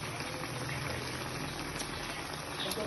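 Coconut milk (gata) simmering in a pot for bicol express with fried milkfish and tilapia, a steady close bubbling and hissing that holds evenly throughout.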